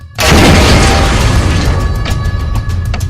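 Massive explosions shaking a giant mid-stride on a ship's lower decks: one sudden loud blast followed by a long, rumbling roar of debris and crackling that stays heavy for several seconds.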